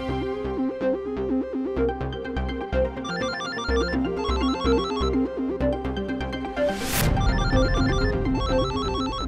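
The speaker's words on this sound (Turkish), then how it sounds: "Telefonun çalıyor." A phone ringtone plays a repeating electronic melody over a busy background, with a brief sweeping noise burst near the end.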